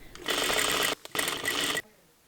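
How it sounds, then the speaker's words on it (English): A sewing machine running two quick bursts of top stitching along the pressed-open seams of a dress shell, close and loud, with a brief pause between runs. "For the shell, I press open the seams and sew them down with a nice top stitch on either side of the seam."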